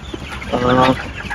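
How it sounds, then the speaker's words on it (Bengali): Two-month-old Egyptian Fayoumi chicks cluck close by, one short, clear, warbling call standing out over a faint background of other birds. "এগুলো হইতেছে আমার 1 মাস বয়সী মিশরীয় ফার্মি মুরগির বাচ্চা"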